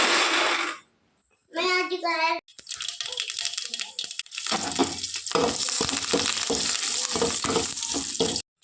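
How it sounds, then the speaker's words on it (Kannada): A short voice and some clatter come first. Then a chutney tempering sizzles loudly in hot oil with a dense, continuous crackle up close. "ಒಗ್ಗರಣೆ ಒಗ್ಗರಣೆ ಕೊಡೋದಾಯಿತು"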